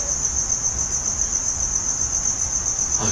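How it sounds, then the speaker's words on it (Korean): Loud, steady high-pitched chirping of crickets continues without a break, close and dominant over faint background noise. "귀뚜라미 소리가 굉장히 크네요."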